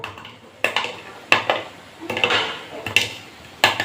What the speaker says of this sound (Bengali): আশা করছি আওয়াজ শুনেই বুঝতে পারছো কতটা মুচমুচে হয়েছে